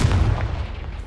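Confringo, the blasting curse in Hogwarts Legacy, detonates with a loud, punchy boom up front, followed by a rolling low rumble that tapers away over about a second.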